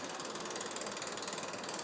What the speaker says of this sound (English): Diffusion pump is on, it's running here.